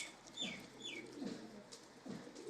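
Toofan-breed pigeons brought from Saudi Arabia give soft, faint coos and a few short calls in an irregular sequence, quiet and close, with no speech.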